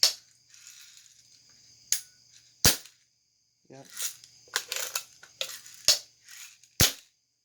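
A sawed-off Red Ryder BB gun fires in a series of sharp, snappy cracks, about seven irregularly spaced shots close by, with brief mechanical rattles and a voice heard between them.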